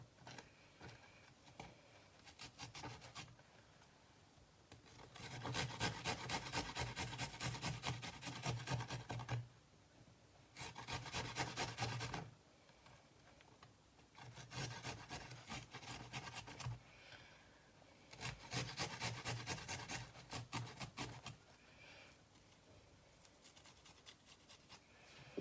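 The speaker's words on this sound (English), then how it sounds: "so that's my garlic grated" Garlic rubbed against a hand cheese grater for Cape Malay frikkadel makes soft, rhythmic rasping strokes in bursts of a few seconds with short pauses between, close and fairly quiet.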